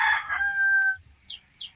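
A free-range farm rooster crows close by, one loud, drawn-out cock-a-doodle-doo that trails off, followed by two short, thin chirps from smaller birds.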